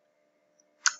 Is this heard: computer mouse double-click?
yes